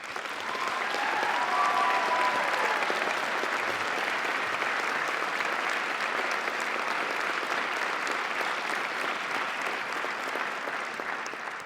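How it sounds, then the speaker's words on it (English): A graduation ceremony audience applauds the musicians, a dense, steady wash of many hands clapping that holds at an even level throughout, sounding broad and close with no voices breaking through. "Please join me in giving them a round of applause."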